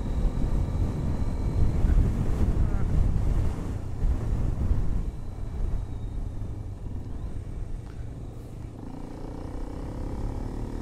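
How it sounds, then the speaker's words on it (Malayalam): Strong wind buffets the microphone on a mountain road lined with coconut palms, a continuous loud roaring rush that is heaviest early on and eases slightly toward the end. "നല്ല കാറ്റ്."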